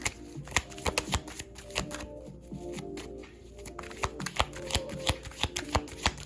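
Tarot cards are shuffled by hand during a reading, a quick run of crisp riffling flicks and soft slaps repeating close up with no talking over it.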